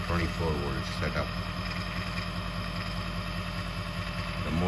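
A Chinese 48V 500W brushless BLDC motor drives an Emco Unimat lathe through a pulley, giving a steady electric hum with a faint high whine and rhythmic low pulsing, while someone speaks over it.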